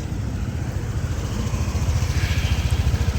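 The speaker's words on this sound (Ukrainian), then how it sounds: "дуже тихенько працює двигун" A Honda PCX 125 scooter engine idles steadily with a soft, even low rumble and a faint rhythmic putter, continuous and fairly quiet.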